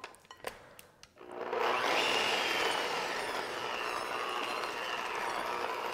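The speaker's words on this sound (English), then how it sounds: "I'm gonna mix this together well" An electric mixer whirs steadily through keto no-bake cheesecake brownie batter after a few light knocks and clatters, holding a loud, constant buzzing drone.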